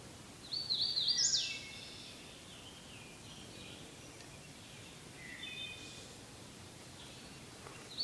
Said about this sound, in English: try not to talk so much during this one so you can hear the birds